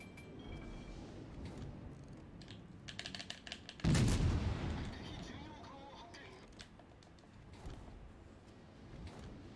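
Warship gunfire in the naval combat game World of Warships Legends: one heavy booming salvo lands midway, standing out over a busy bed of game sound and faint keyboard clicks.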